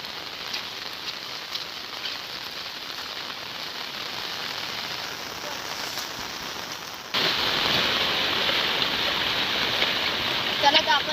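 Heavy monsoon rain pours down in the Konkan region in a dense, steady hiss of drops on surfaces that swells noticeably louder about two-thirds of the way through.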